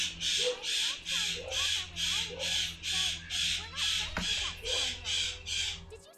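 A pet parrot squawking in another room gives a steady series of about a dozen harsh, evenly spaced calls, moderately loud and slightly distant.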